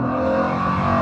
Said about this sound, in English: The sound and the torque this engine makes is not easy to not be constantly dipping into.